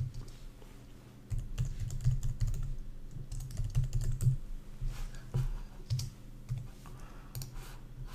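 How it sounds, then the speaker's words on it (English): Steady keyboard typing on a computer keyboard while a multi-line paragraph is entered into a text layer in motion graphics software, a quiet start followed by a continuous, moderately loud run of key clicks with no talk. "just go in your text layer and type whatever you want, something like this"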